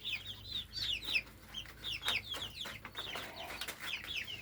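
Bantam chickens clucking and chirping close by in a backyard, a steady run of short, overlapping calls from several birds with no talking.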